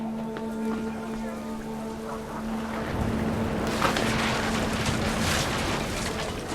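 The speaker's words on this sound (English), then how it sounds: "The rain came down in buckets then" Heavy rain in the video game What Remains of Edith Finch begins falling after a steady low hum, becoming a dense, continuous downpour with a faint voice underneath.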